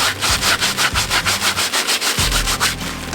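Carrot seeds rubbed between bare hands to strip off their barbs, a steady rhythmic dry scratching and rustling repeated about four times a second, close and loud with no talk.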